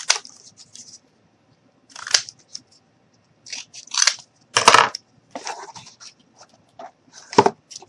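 Cardboard being cut into a piece for a model dumpster gives off crunchy, crinkly rasps in separate close bursts with quiet gaps between them.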